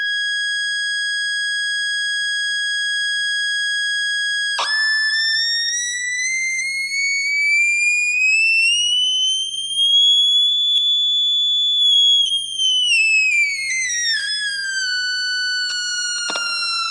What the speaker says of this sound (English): I'll also change the frequency of the input signal and see how the sound changes at the output of the speaker